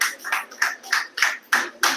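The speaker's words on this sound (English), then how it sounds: "The round of applause is from the fans of Ibra who are at the venue" Scattered applause from fans at a pool money match venue, a handful of separate claps about every third of a second, close and moderately loud with no talking over it.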